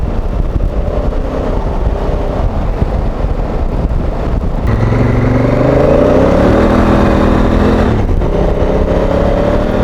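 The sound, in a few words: Honda Africa Twin motorcycle riding with Motoz Tractionator rear tyre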